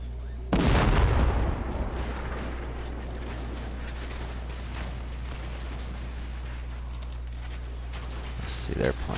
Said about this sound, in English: we'll just let these 2 regiments continue to fire